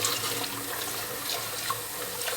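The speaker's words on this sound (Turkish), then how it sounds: "sıcak suyu açıyoruz ve bol sirke ile dikkatlice iç dışlı güzelce suyu ve berraklaşıncaya kadar yıkıyoruz" Hot tap water runs steadily over an earthenware clay casserole pot being washed with vinegar, a constant close splashing with faint clinks.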